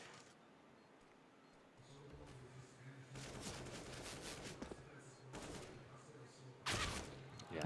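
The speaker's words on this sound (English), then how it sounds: "Electronic is inside of the site and he's ripping them apart with the AK" AK rifle fire in Counter-Strike: Global Offensive during a pro match, heard as several short, sharp bursts of rapid shots separated by gaps, fairly faint with commentators talking over them.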